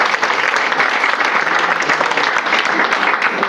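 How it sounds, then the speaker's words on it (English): An audience at a ward meeting gives a steady round of applause, dense continuous clapping throughout with no talking over it. "Let's give her another round of applause."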